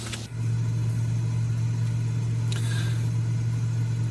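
A Cessna T206H single-engine aircraft in a flight simulator game drones with a steady, even engine hum heard from outside the plane, holding at constant pitch after a brief start, loud and unbroken.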